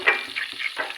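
Mustard seeds hit hot oil for a cauliflower curry, giving a brief, close burst of sizzling with small popping crackles over about a second.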